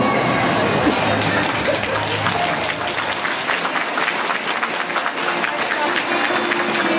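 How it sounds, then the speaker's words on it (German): Steady audience applause fills the room for several seconds, a continuous dense clatter of many hands with some crowd voices underneath. "Und dann verabschieden wir mit Applaus"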